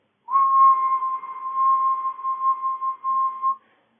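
A person whistles a single steady mid-pitched note, held clear and close for about three seconds and then stopping, with no talking.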